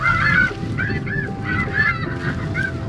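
Snow geese honk overhead during a spring hunt in South Dakota, a steady stream of repeated nasal calls from a flock, moderately close and layered over constant low background noise.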